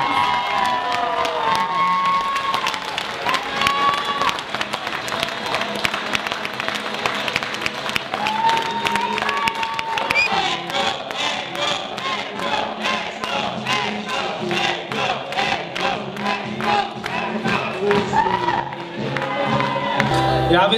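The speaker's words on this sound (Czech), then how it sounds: "Takže já bych poprosil hrozně velký a dlouhý potlesk pro Eko." Long, sustained applause and cheering from the crowd at a school graduation ball in a spa hall in Poděbrady, with dense rhythmic clapping, whoops and shouts throughout.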